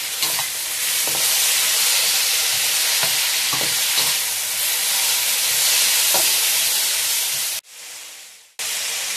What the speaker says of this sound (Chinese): 然后把这个凉薯、红萝卜， 翻炒。